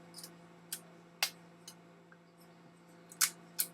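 A Braun Gloriette camera shutter clicks several times at uneven intervals, sharp and close, some louder than others, with a quiet electrical hum underneath.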